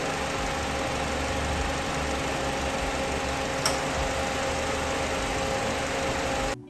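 A 2009 Honda Civic engine idles steadily with the AC compressor engaged, a constant low hum and whine, fairly close, with one brief click partway through before it cuts off.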